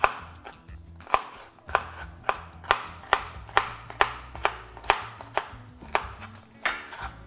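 A knife chops a washed, deseeded bell pepper into thin strips on a board, a steady run of crisp, evenly spaced cuts close by, with no talking.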